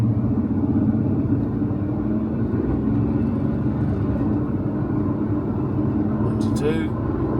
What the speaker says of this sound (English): This is violent, shifting from 1 to 2.